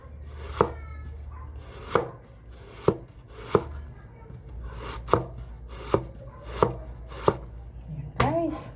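A knife chops banana pith into thin slices on a board, with about ten sharp, evenly spaced knocks roughly a second apart, close by over a low background hum.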